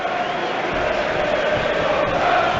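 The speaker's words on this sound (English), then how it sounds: "Ward-Prowse receiving applause from the Saints fans as he goes across to whip this in-swinger in" Southampton supporters applauding and cheering as a player walks over to take a corner in a Premier League match against Chelsea; a broad, steady crowd roar fills the stadium, with faint commentary underneath.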